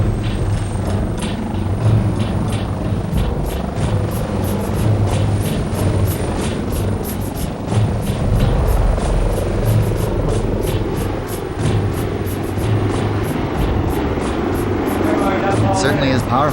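Large helicopter flying in a mountain setting, a steady loud rotor and engine roar with rhythmic blade chop throughout, close by and continuous.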